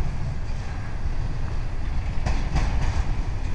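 An intermodal freight train rolls steadily past close by on the former Norfolk and Western main line in Roanoke, Virginia, its continuous rumble broken by rhythmic wheel clacks over rail joints.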